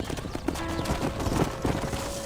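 Horse hooves clip-clop steadily on a ranch in the Red Dead Redemption video game, a continuous rhythmic trot close by with some background game ambience and no clear talk.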